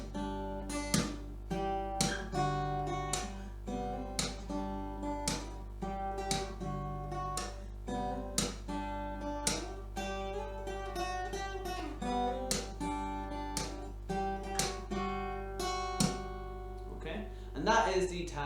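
Guitar playing a riff, picked notes in a steady repeating pattern punctuated by sharp percussive string slaps, close and moderately quiet over a low steady hum.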